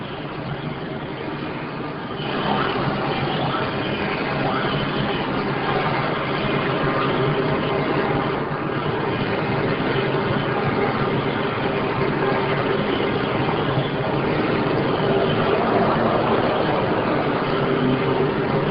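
Podracer engines roaring in a Star Wars racing game running on a 1999 Mac, a loud, continuous droning engine blare that holds steady throughout with no talk.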